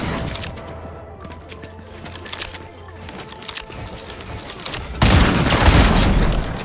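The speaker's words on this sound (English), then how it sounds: "Someone literally just shot at me, bro." Gunfire in the Fortnite video game, a dense burst of shots that grows louder and heavier toward the end over a busy game soundscape.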